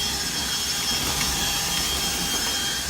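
A power drill spins chimney sweep rods with a whip head through a flexible liner, whirring continuously at a steady pitch, a constant mechanical drone running unbroken throughout.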